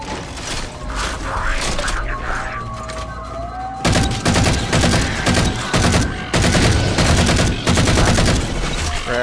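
Assault rifle gunfire in Halo 4 comes as loud rapid bursts, with sustained automatic firing in the second half mixed with game effects and someone talking.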